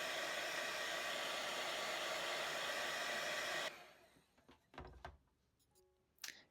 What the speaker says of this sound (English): I'm going to hit it with a blow dryer again.